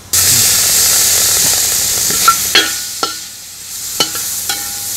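Chopped tomatoes and garam masala sautéing in a pan for a quail curry, giving a steady loud sizzle with a few sharp scrapes and clinks of a spoon stirring, no voices.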